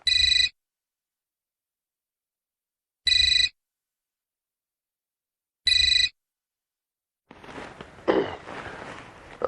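A telephone rings three times in short electronic bursts separated by silence, followed by faint rustling and handling noises.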